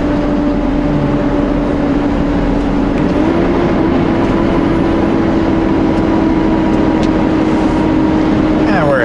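A car engine holds a steady speed around 40 to 45 mph while driving in rain and snow, a loud continuous drone with a sustained tone and road noise under occasional talk.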